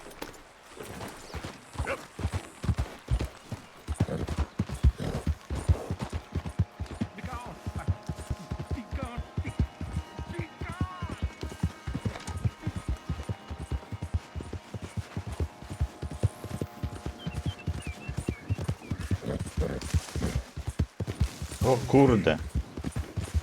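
Horse hooves clip-clopping at a quick gait in the video game Red Dead Redemption 2, a continuous rhythmic run of close thuds with occasional game sounds, under a man's short spoken remark.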